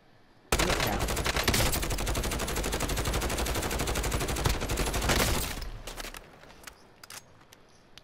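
A video game machine gun fires a sustained, rapid automatic burst for about five seconds, loud and close, before it stops and only a few faint clicks and small taps remain.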